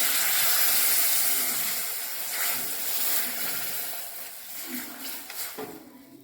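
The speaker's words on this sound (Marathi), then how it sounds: "आता पाणी घालून घेऊया" Water poured into a hot pan of cooking vegetable with ground peanuts sets off a loud steaming hiss and sizzle that gradually fades and settles into softer bubbling.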